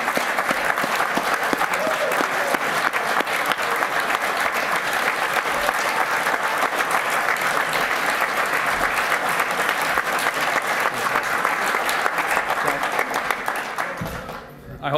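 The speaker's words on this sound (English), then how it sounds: "Please give them your applause." Steady, dense clapping from a NASA press conference audience honoring the Pipistrel USA team, 2011 Green Flight Challenge winners. It continues evenly for most of the stretch, then tapers off near the end.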